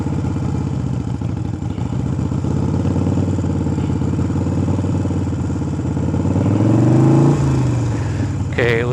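A motorcycle engine revs and idles through a slow parking-lot braking and throttle drill, its steady mid-pitched drone swelling louder with a throttle blip near the end, a voice talking over it at times.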